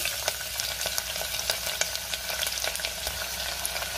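Onion with green chillies, cloves, black pepper, cinnamon and bay leaf frying in ghee in a pan, a steady close sizzle with light crackling pops and stirring scrapes throughout.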